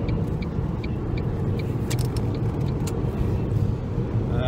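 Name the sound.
car driving on a road, heard from inside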